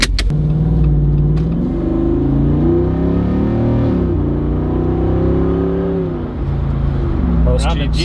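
A Ford Raptor fitted with a front-mount intercooler and blow-off valve rumbles loudly up close as the engine revs and pulls steadily, its pitch rising and falling. Voices talk over it.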